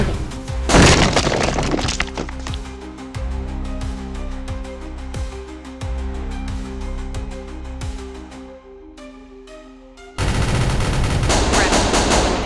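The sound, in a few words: gunfire in the video game Execute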